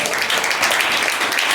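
A church congregation claps in a steady, even wash of applause, fairly loud and sustained without a break.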